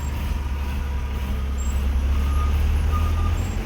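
Heavy trucks and other vehicles pass on the Thoppur highway road near Dharmapuri, giving a steady, loud low rumble of engines and tyres throughout.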